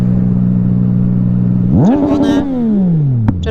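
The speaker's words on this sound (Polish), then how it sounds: "O, motorki jadą." Motorcycles pass on a road in the Polish mountains: a steady close engine hum gives way to a quick rising rev and roar as the bikes go by, then fades back down.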